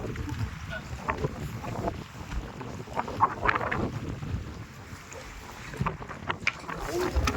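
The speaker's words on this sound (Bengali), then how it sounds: "ভালো ঢেউ চলছে নৌকা ভালো দুলছে" Sea waves rocking a fishing boat at sea near Mousumi Island, a choppy wash of water and wind buffeting at low level, with people talking faintly over it.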